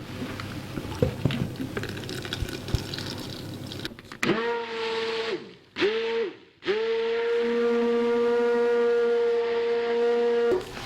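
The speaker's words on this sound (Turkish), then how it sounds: "Sürekli çalıştırmayın. Blenderınız bozulabilir." A kitchen blender churns cream and cold water into homemade butter. After some handling noise, its loud whining motor starts, cuts out briefly, then runs again steadily to the end.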